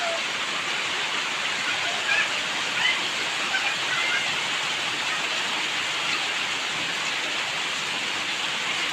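Heavy rain pours steadily during a flood in Carita, Pandeglang, making a dense, constant broadband hiss that does not let up, with a few faint splashes and no talk over it.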